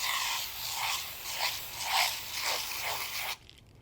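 Aerosol brake cleaner sprays into a foam cup in bursty pulsing hisses for about three seconds before cutting off abruptly into quiet.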